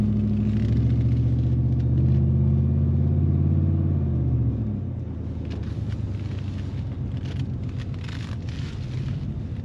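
Engine of a 1994 Cadillac Sedan Deville while driving: a loud, steady low rumble and drone that eases off slightly about halfway through, continuous with no talk.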